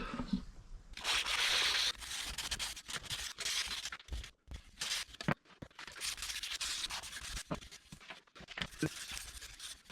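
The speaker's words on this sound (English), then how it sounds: "Now it's time to just go up through the grades of sandpaper" Sandpaper rubbing over the repaired headstock of a Gibson SG guitar, working up through the grits; close, rough scraping strokes in an irregular rhythm with brief pauses, no talk.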